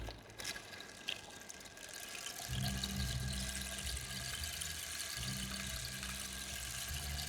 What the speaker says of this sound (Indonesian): Terdengar sensasi suara seperti ada air ya.